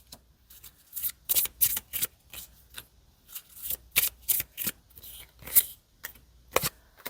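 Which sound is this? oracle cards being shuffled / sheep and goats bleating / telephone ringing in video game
oracle cards being shuffled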